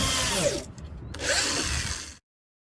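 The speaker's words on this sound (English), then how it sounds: "so I'm drilling a hole right there." A power drill bores a hole while building a smoker, whining loudly and close. It pauses briefly mid-hole, runs again for about a second, then cuts off abruptly.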